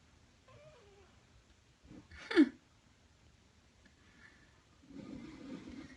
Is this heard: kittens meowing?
yes